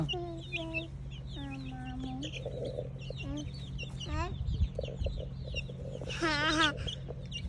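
Chickens cluck and call repeatedly at a farmyard, with several bird voices overlapping in short bursts under a steady low hum and occasional background talk.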